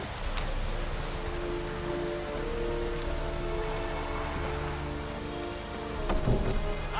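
Steady night rain in the open world of The Witcher 3, a dense even hiss of falling drops with a low rumble beneath and a brief louder swell near the end, no voices over it.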